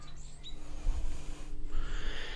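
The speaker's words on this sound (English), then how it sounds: "birds twerping and stuff" Birds chirping outdoors, with a few thin high calls near the start and more chirps later, heard over a steady low hum and outdoor background noise. No talking.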